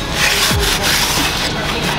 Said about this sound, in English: Use this Scotch-Brite to take off the extra oil, old oil, from the sides of the motor so I can put the gasket in.